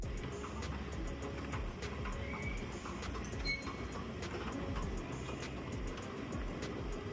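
A New York City subway train pulls into the station with a steady low rumble and a dense run of sharp wheel clicks and clatter. Faint brief squeals rise above the noise, and there is no talk.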